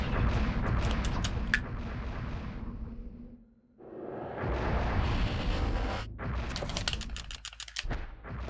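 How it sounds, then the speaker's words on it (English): Game fireworks in Eternal Darkness burst as a dense run of sharp crackling pops and booms, a short lull near the middle, then a second flurry of rapid bangs, loud and close with no talk. "Fireworks."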